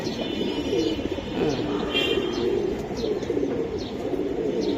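Pigeons coo repeatedly at a pigeon market, soft rolling low calls close by over a busy background murmur.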